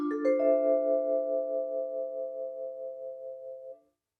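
Space Age Vibraphone virtual instrument note played with vibrato on, its sustained tone pulsing in a regular wavering rhythm for several seconds before stopping cleanly, heard alone with no voices.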